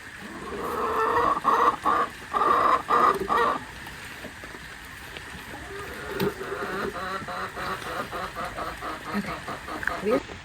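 Broody hens clucking in a low, muttering way close by, with short rhythmic bursts early on and softer, scattered clucks afterward, while people talk faintly in the background.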